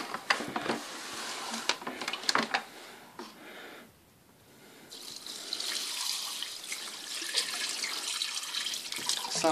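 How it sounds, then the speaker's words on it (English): Water poured out of a shop-vac bucket rigged as a water-filtration plaster dust vacuum, a steady splashing pour that pauses briefly midway then resumes louder and fuller, close to the microphone with no talking. "So I'll just dump all the water out."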